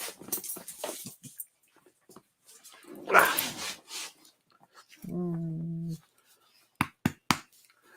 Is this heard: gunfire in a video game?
no